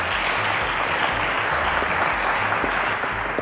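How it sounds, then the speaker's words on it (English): A studio audience applauds a contestant on a televised school quiz show, a dense, steady wash of many hands clapping at close range with no talk over it, holding at full loudness for the whole stretch. "A round of applause to Samuel, guys."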